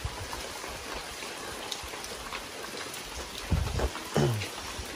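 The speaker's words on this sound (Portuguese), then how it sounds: "Chuvinha bacana, viu?" Light rain falling steadily outdoors, a soft, even patter and hiss throughout, with brief low voices cutting in near the end.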